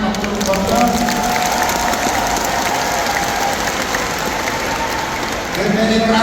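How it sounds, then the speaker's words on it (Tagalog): Steady, dense applause from a large audience at a 4PH housing caravan program at the Caloocan Sports Complex, sustained and loud throughout with a brief dip near the end, voices mingling in the crowd. "Isang palakpak namin Pangulong Bongbong."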